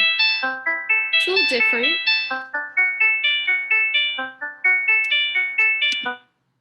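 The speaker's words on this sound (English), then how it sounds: "I'm going to click the wave button, so you'll hear electronic sounds." Synthetic electronic tones from the wave setting of the Chrome Music Lab piano roll play a steady melody of short, evenly paced notes, with a voice speaking briefly over the tones partway through.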